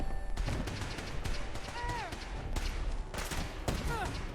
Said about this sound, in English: Just all shooting at that guy.